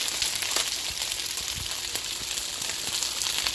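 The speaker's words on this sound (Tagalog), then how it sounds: "Boiling now." Water rolls at a boil in a pot of noodles, a steady bubbling hiss with scattered pops and crackles close by, continuous and even throughout.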